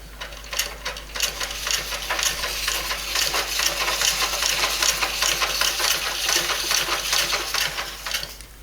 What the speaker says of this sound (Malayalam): എന്നിട്ട് നമുക്കൊന്ന് സ്റ്റിച്ച് ചെയ്ത് നോക്കാം.